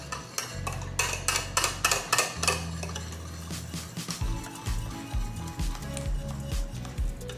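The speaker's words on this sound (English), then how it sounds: "I'm going to add in 2 cups of heavy cream. Just gonna mix that in." Heavy cream is stirred into an Irish cream mixture in a bowl, giving repeated clinks and scrapes of a utensil against the dish with splashy liquid movement and no talking.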